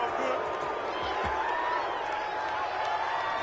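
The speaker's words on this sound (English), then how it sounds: "this crowd does not like that call" A video game football crowd in an NFL stadium reacts to a penalty call with a sustained, loud rumbling roar of disapproval, steady throughout the moment.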